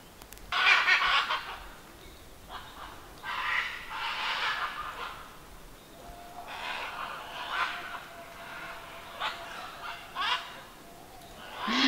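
Parrots call at the Maya ruins of Copán in Honduras, harsh squawks and raucous screeches in repeated bursts, some near and loud, others farther off, over outdoor ambience.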